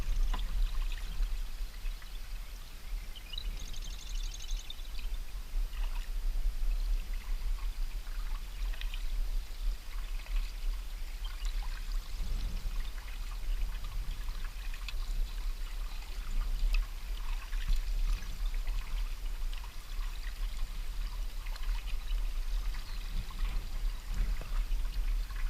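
Gentle kayak paddle strokes through shallow marsh water at low tide, with soft trickling and dripping water running steadily and close throughout, no talking.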